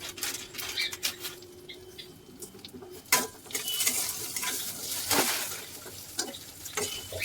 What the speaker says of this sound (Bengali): জিরে আর শুকনো লঙ্কা ফোড়ন দিয়ে এবারে সেটাকে ভেজে নেওয়া হচ্ছে